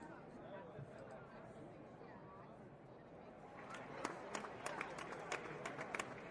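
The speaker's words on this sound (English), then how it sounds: "we need the crowd noise" Stadium crowd noise at a Rangers vs Marlins baseball game plays as a steady background murmur of chatter, with a few sharp claps and shouts rising near the end.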